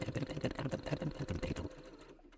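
A sewing machine understitches a seam in a quick, rhythmic run of mechanical needle thumps for about a second and a half, then stops into near silence.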